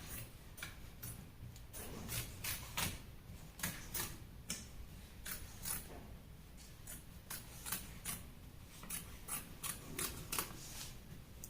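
Sharp scissors snip through fabric while cutting pieces for a six-panel skirt, a series of crisp close-up cuts in an irregular rhythm with short pauses, no voices.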